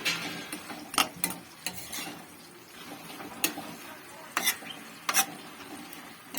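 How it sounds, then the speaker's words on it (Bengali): Boiled potatoes being stirred together with mustard greens in a village kitchen pan, intermittent sharp scraping clicks of the utensil over a faint low sizzle, close and irregular, no talk. "এটিকে ভালোভাবে নেড়ে চেড়ে নেবো, সবগুলি ভালোভাবে মিক্স করে নেব শাকের সঙ্গে আলুগুলি।"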